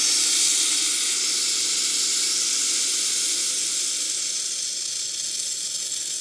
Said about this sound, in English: I'm just going to open the hot water tap and drain all of the water inside there.